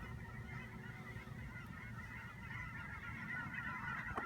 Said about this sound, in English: Watching huge flocks of geese flying through.